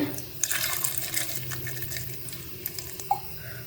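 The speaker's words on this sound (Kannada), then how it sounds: "ಸ್ವಲ್ಪ ನೀರು ಹಾಕ್ಕೊಳ್ಳಿ" Water is poured into a mixer grinder jar holding chillies. It gives a close, gurgling splash with a few drips and small clinks, fairly soft, and no one speaks.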